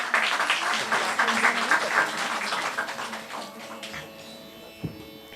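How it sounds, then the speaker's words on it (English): Steady applause from an audience for a music group, fairly loud and continuous at first, then fading away over the last seconds into a faint hum. "So one more round of applause for this enchanting group"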